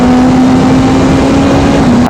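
A 2025 BMW S1000RR sport motorcycle engine holds a loud, steady high-RPM drone for about two seconds before cutting off abruptly at the end.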